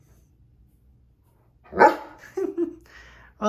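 A German Shepherd barks a few times, loud and close, after a quiet stretch; someone says a word between barks.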